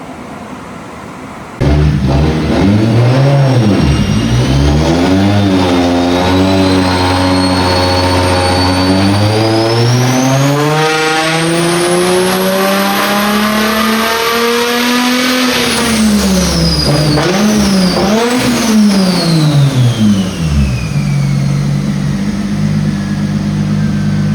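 A 1JZ-swapped BMW E36 on a dyno howls through a long, loud pull, engine pitch climbing steadily for about fifteen seconds before dropping back and blipping again near the end, with a whistling turbo over the roar.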